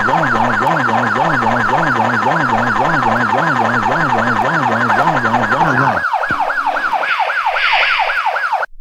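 A police car siren wails loud and close in a rapid yelp pattern, then switches to a slower rising-and-falling wail before cutting off near the end.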